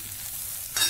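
Chutney ingredients with coriander leaves heat in a pan, producing a soft, even sizzle that swells suddenly louder near the end as something is stirred or added.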